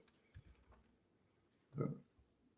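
Brief burst of computer keyboard typing while entering a search term into trading software, a few light clicks near the start and a denser cluster of keystrokes later, fairly quiet with no talk.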